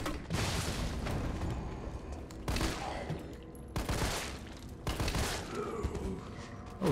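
Grenade launcher in Resident Evil 3, with several heavy blasts spaced a second or two apart, each a broad boom that fades into rumble, fairly quiet overall with no talk.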